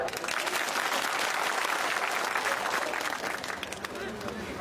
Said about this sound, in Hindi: अरे सही है तो ताली बजाओ।